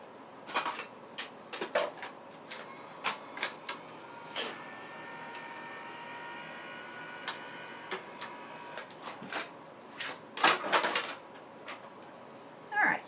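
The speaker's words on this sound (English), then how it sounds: "I'm going to take this out and run it through the die cut" Paper being cranked through a manual die cutting machine with a curvy border die, producing irregular clicking and ticking taps, some clustered, close and fairly quiet, with a faint hum between them.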